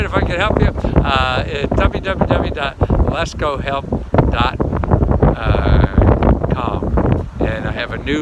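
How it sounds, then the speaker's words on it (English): Strong wind outdoors buffets the microphone with low rumbling gusts, running loud and continuous beneath someone talking throughout. "It's windy as hell."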